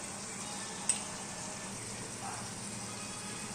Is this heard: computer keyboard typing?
no